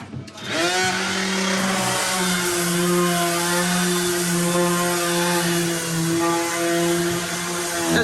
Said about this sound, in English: That's a little jitterbug sander, so he used that to get this nice and polished here.